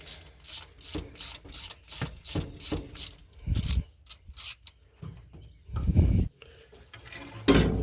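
Ratchet wrench clicking in rapid repeated bursts while spark plugs are removed from a 1947 Ford Super Deluxe engine, close and loud, with short pauses and a few heavier metallic clunks between runs.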